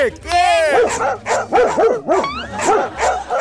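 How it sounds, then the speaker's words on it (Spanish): A dog barks repeatedly in quick, close yips and woofs on a Spanish-language program, with a person speaking briefly over the barking. "¿Un perro? ¡Estoy feliz!"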